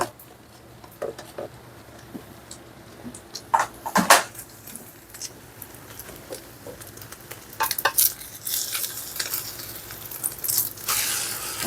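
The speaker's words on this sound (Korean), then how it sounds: "역시 기름이 정답이었습니다. 근데 뭐 좀 튀기는 느낌까지 납니다." Beaten egg fries in oil in a new pan to make a thin omelette sheet. Utensils clink and scrape against the pan, and a sizzle grows louder and busier toward the end, with no talking.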